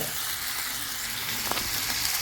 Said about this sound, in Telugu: 1 చెంచాడు పోపిత్తులు, 1/2 చెంచాడు జీలకర్ర, ఉల్లిగడ్డలు, కళ్యామాకు ఇలా దూరగా గోలించుకోవాలి